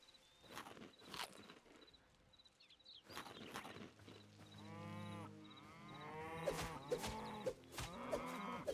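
A bull in the video game Hytale gives a drawn-out, mid-loud moo with tonal lowing partway through, preceded and followed by game footsteps and clattering effects.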